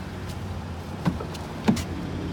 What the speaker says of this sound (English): Power running boards.